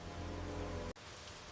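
Gentle rain patters steadily against a kitchen window in a quiet countryside house, a soft continuous wash that cuts off abruptly near the end before a fainter hiss resumes.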